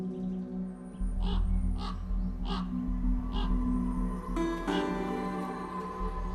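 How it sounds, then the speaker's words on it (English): A wild crow calls from a perch in European wilderness, giving a series of about five harsh caws spaced unevenly over a steady outdoor background hum, moderately near and clear. "From his new perch, the crow points Slava toward more accessible prey"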